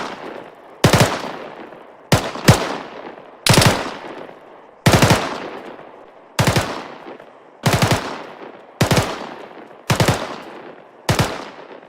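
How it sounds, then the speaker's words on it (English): Rifle fired in short bursts of about three rapid shots each, eight sharp loud bursts spaced roughly every one and a half seconds, each followed by a decaying echo. "Fire bursts of around 3 shots at your target until they drop."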